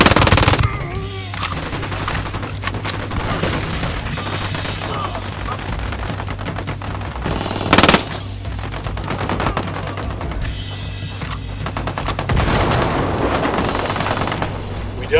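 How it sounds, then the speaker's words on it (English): Rapid automatic gunfire rattles almost continuously in a Ghost Recon Wildlands firefight, with bursts of shots, a louder bang partway through and a steady low engine-like drone beneath, voices occasionally mixed in. "I'm opening fire."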